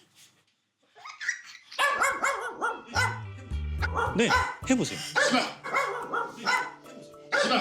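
A dog barks in a string of sharp, repeated barks at close range, with whimpering yips in between, while people talk over and between the barks.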